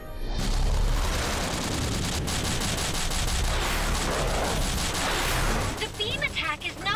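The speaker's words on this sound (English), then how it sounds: "The beam attack is not working!" A cartoon robot beam attack with explosions, a dense continuous roar of blasts and booming impacts lasting several seconds before fading into scattered effects.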